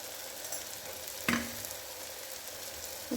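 Tomato sautéing in a pan with turmeric, a steady close sizzle of frying throughout, with a brief stirring clatter partway and a small knock near the end, no voices.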